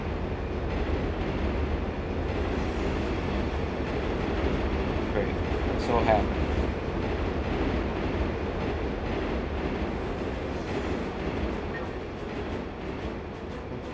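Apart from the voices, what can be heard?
subway train passing in video game Turok 3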